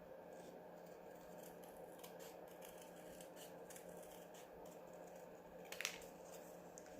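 Scissors snip through card stock for a handmade greeting card, giving a quiet run of soft close-up rasping cuts with one sharper snip near the end and no talking.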